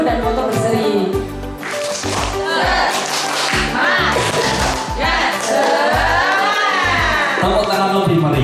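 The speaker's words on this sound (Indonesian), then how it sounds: "Tepuk tangan lebih meriah, lebih meriah, lebih kuat, lebih mantap" Audience in a kindergarten teacher-training session claps and cheers loudly, with dense applause and rhythmic bursts of clapping filling the room, mixed with shouts.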